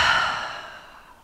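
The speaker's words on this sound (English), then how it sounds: "5 long deep breaths." A single long, deep exhale during restorative yoga for pain management, airy and close, fading steadily over about a second with no talking.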